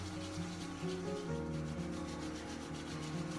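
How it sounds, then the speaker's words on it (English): Palms rub together briskly during a yoga practice, a soft, continuous swishing friction sound, close and quiet, with no speech. "hands together and create some friction between them. Rubbing them together"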